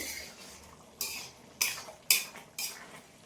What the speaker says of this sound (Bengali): ধনেপাতা আর গরম মশলাটাকে একবার সবজির মধ্যে নাড়াচাড়া করে মিশিয়ে নিয়ে